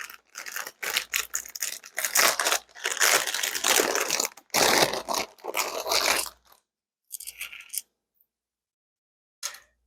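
Crinkly plastic packaging from a sewing kit being handled and crumpled up close, bursts of loud rustling and crackling that stop and start, ending in a long pause and one last short crinkle.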